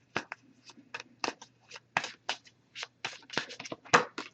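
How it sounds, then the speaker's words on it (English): An oracle card deck is shuffled by hand in a quick run of crisp riffling bursts, close and fairly soft, with a low steady hum underneath and no talking. "we'll give it a few more shuffles, cut the deck, and pull a card that way"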